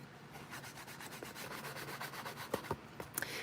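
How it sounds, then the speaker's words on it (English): A paper file folder edge rubbed with ink in a craft session, giving soft, steady scratchy rubbing strokes close by, with a few sharper taps near the end and no talk. "I wanted to kind of get some ink around the edge of this file folder"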